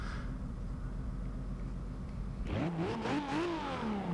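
The inline-six of a 1995 Toyota Supra RZ in the racing game Forza Horizon 2 starts from a low, steady idle, then revs sharply, climbing and wavering through several pitch swings, loud and close with no talking.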